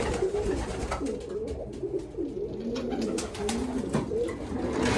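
Pigeons coo repeatedly in soft, overlapping throaty calls inside a freshly cleaned loft, close by, with light rustling and shuffling in the background.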